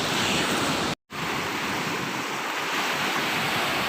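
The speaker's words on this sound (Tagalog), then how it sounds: "Yan po, malalaki po yung alon." Big ocean waves crash at Bantayan Beach in Northern Samar, a dense, continuous surf roar broken by a brief dropout near the start.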